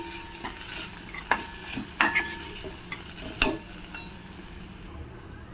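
Spoon stirring turmeric and homemade garam masala through oil in a pan while cooking a pumpkin sabzi, soft scraping with a few sharp clinks of utensil on metal over a faint steady sizzle.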